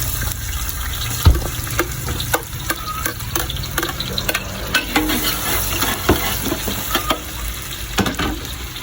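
Ginger sautés in a pan with a lively sizzle, punctuated by repeated scraping and tapping from a utensil stirring it, loud and close, with no voices.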